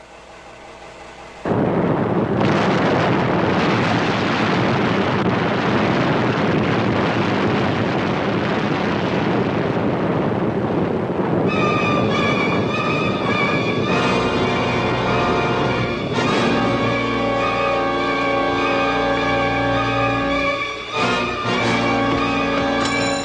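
A missile fires with a sudden, loud, roaring blast that rumbles on for several seconds before orchestral music swells in over it.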